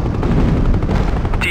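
A ZSU-23 anti-aircraft gun firing in a 1996 Hind helicopter combat game, a loud continuous rapid-fire rattle of bursts filling the whole stretch, close and dense.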